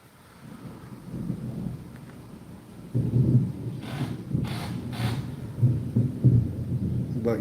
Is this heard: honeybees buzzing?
no